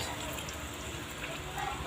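Cornstarch dissolved in water pours steadily into a pan of sautéed chayote, a soft continuous splashing and trickling, fairly quiet with faint room noise around it.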